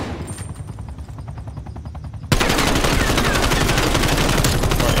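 Rapid automatic gunfire rattles in the video game Black Ops Cold War, quieter bursts at first, then a sudden loud, sustained stream of shots that carries on to the end.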